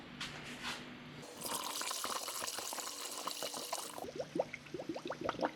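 Coolant pours into a low vehicle cooling system, trickling and gurgling nearby and building into a steady fill with dripping splashes toward the end.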